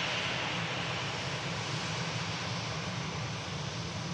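An EasyJet airliner at Manchester Airport roars with a loud, steady, broadband engine rumble that holds without letting up, heard alone with no talk.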